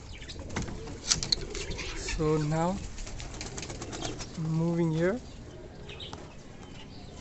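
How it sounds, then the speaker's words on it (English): King pigeons in a loft give two drawn-out, throaty coos, with soft rustling and someone talking over the sound. "So this is my king pigeon."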